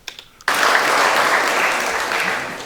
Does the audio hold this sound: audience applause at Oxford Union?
yes